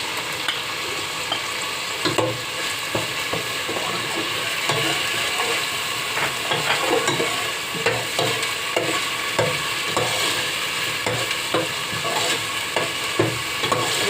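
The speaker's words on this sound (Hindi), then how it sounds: "मसाला डालकर इसको ज़रा थोड़ा भूनेंगे ताकि टमाटर का कच्चापन निकल जाए।" Masala and tomato frying in a pan for apple gourd chicken gravy, a loud steady sizzle broken by frequent close scraping and stirring strokes.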